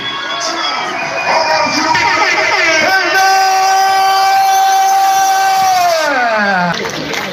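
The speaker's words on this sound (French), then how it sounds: "vous criez, vous tapez des pieds" A stand-up comedy audience shouts together in a long, loud, sustained collective yell that swells, holds for several seconds, then drops away, with mixed voices around it.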